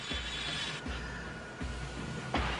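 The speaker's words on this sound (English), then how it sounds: "the crew mills the pipe's ends to provide a smooth, clean surface" Pipe ends being milled by crew aboard the Solitaire pipelay ship, a steady mechanical grinding and whirring with low rumble, broken by brief shifts in the machinery roughly every second.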